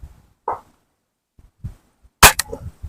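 HW30s spring piston air rifle fired once: a sharp, loud crack with a quick springy twang and short ring, standing apart from faint handling noises and a brief earlier thump.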